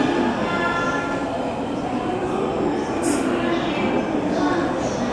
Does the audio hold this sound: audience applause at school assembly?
no